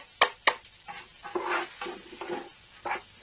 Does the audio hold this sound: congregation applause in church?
no